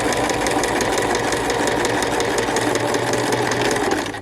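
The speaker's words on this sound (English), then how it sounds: "I have my machine threaded up with a matching thread here." A sewing machine runs steadily at close range, stitching a straight seam on a beginner porch pillow with matching thread, its fast, even mechanical whir and rattle continuing for about four seconds before easing off.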